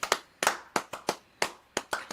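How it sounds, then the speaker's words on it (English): Sparse, individual hand claps on a live gameday broadcast, sharp and close with an irregular rhythm, sounding more like one or two people clapping than a full audience. "a round of applause"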